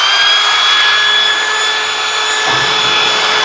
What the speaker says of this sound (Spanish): La rueda flap, en lo posible, debe entrar en el buje